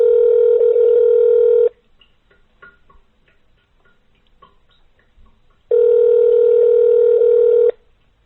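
Telephone ringing tone on an outgoing call to a council line: two long, steady tone bursts separated by about four seconds of near silence, clear and alone.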